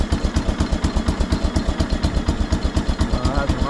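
Engine of a 1975 PowerKing tractor running steadily after its first start in two years, a loud, close, rhythmic rapid chugging with a rough clattery edge.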